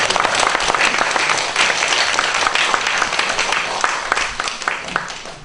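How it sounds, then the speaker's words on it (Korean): A church congregation applauds at a Sunday service in Masan Changsin Church, welcoming a guest pastor: dense, steady clapping from many hands fills the room, fading a little toward the end. "우리 큰 박수로 지태현 목사님"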